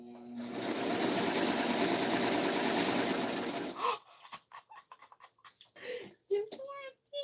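A sewing machine runs in one steady, loud, continuous whir for nearly four seconds during late-night sewing, then stops and is followed by excited, broken talk.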